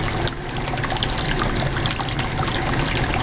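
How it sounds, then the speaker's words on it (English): Water streams steadily down a gold clean-up sluice lined with Gold Hog washer mats, a continuous close, loud trickling wash with no talk. "I think I might need a little more volume of water going down here"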